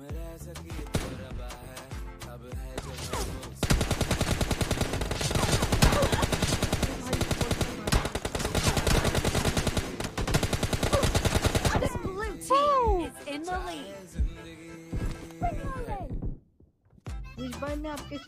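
Rapid bursts of automatic gunfire from a mobile shooter game rattle loudly through the first twelve seconds in dense repeated volleys, then give way to scattered shots and excited talk in Hindi.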